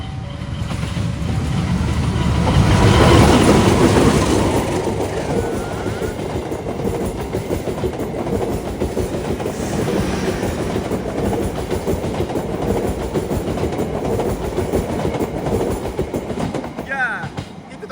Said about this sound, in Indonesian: itu tadi kereta Cukurai yang melalui jembatan yang ada di stasiun Cilame ini